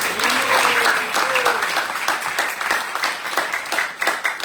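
A gathering at a devotional celebration breaks into a sustained round of applause, dense clapping from many hands that holds steady throughout, with a few voices mixed in.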